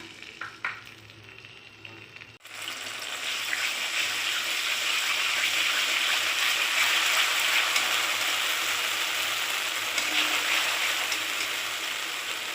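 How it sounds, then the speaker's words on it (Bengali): Poppy seed, green chilli and cashew paste hitting hot oil tempering in a pan, a quiet scrape then a sudden steady sizzle that swells and holds, close by. "পোস্ত, কাঁচা লঙ্কা আর কাজু বেটে নিয়েছি, সেটা আমি এবারে এই ফোড়নের ওপরে দিয়ে দিলাম"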